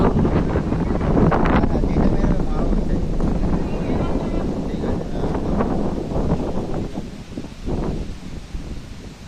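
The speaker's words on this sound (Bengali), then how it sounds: "হাওয়া হচ্ছে, ঝড় উঠেছে, দেখতেই পাচ্ছ।" Strong stormy wind roars and buffets the microphone continuously near rice fields, with loud rumbling gusts that ease slightly near the end.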